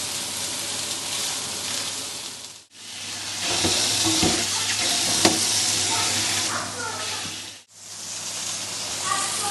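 A dry-aged steak sears in a hot oiled pan, giving a loud, continuous sizzle that breaks off twice for a moment and returns, with soft scraping and pressing noises mixed in.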